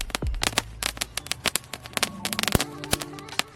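A lollipop-type firecracker crackles and sparks nearby in a dense, irregular run of sharp pops and snaps, with a few louder bangs standing out above the steady crackle.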